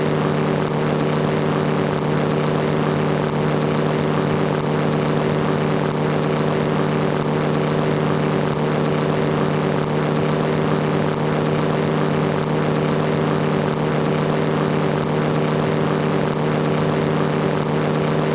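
Heinkel He 72 propeller biplane engine droning steadily in a flight sim, a loud constant hum with whirring propeller, no pauses or voices throughout.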